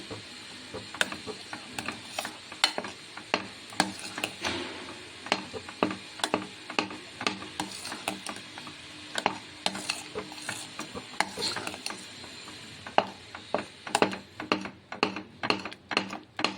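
Custard powder and cardamom powder being beaten together in a bowl produce rapid, irregular clicking taps of a spoon or whisk against the container, close and continuous, with faint rustling between strokes.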